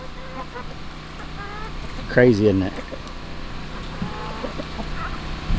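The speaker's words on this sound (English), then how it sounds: "I really don't need 2 roosters with 10 hens" A chicken gives a loud burst of clucking partway through, with softer fowl sounds and a brief spoken remark over a steady background hum.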